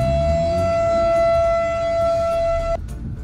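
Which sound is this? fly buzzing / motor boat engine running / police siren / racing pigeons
police siren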